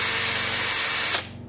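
Power drill running at high speed inside a 383 big block engine block, a loud close whine that winds down quickly near the end.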